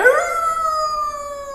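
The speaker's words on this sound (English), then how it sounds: "It's like wolves start howling like they know when you light weed up." A single drawn-out wolf howl, loud and close, holding a steady pitch that sags slightly toward the end, with nothing else around it.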